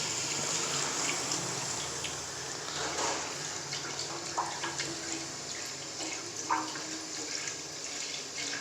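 A steady liquid pour of full-fat milk into a pan in a home kitchen while making khoya, a continuous soft gushing stream at moderate distance with small splashes.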